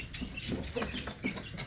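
Light Columbian Brahma chickens cluck softly in a farm pen, a few short, scattered clucks and calls rising over quiet background noise, with no voices.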